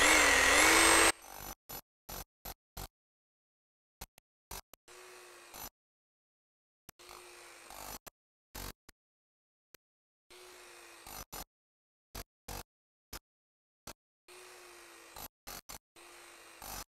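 A 1-3/4 inch SDS Max combination rotary hammer drilling a 4-inch hole: a loud burst of hammering drill noise at first, then short, choppy bursts of drilling broken by silent gaps.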